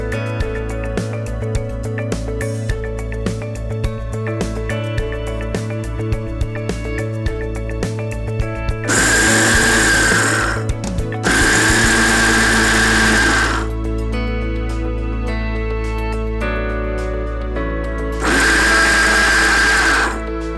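A mixer grinder blends mint and horse gram chutney ingredients in two loud, close whirring bursts of a few seconds each. Steady background music plays between and beneath them.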